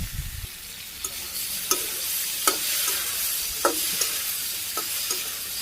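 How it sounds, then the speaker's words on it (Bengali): Ash gourd curry being stir-fried in plenty of oil in a village kitchen, a loud continuous sizzle broken by regular sharp spatula scrapes and knocks about once a second, with no voices. "তেল বেশি করে দিয়ে সুন্দর করে কষাইলি এই ঝোলের মধ্যে এই চাল কুমড়াটা"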